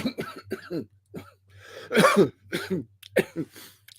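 Close, loud bursts of coughing and throat clearing come in several harsh fits over a few seconds, separated by short quiet gaps.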